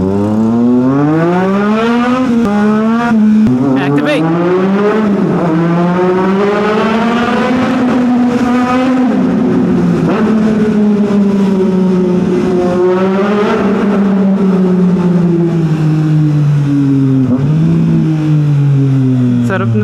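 A Triumph Trident motorcycle engine revs and holds a loud, sporty drone while riding through a tunnel, its pitch rising and falling with the throttle over about twenty seconds, close and continuous.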